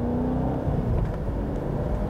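Cadillac CT5-V Blackwing V8 manual sedan on a race track, a loud, close engine drone holding a steady, low, rumbling pitch, with no voices.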